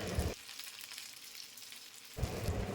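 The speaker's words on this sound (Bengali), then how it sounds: "পেঁয়াজ ভাজতে ভাজতে হালকা রং ধরে নিলে তখন দিয়ে দেবো আগে থেকে কেটে রাখা 2টো" Onions and chopped tomato frying in oil give a close crackling sizzle that drops away in the middle before returning loud at the end, with no talk.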